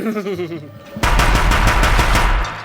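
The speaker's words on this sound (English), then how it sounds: "But now I have a minigun" A minigun in the video game Horizon Zero Dawn spins up, then lets loose a loud, sustained rapid burst of automatic fire for more than a second, with no voices over it.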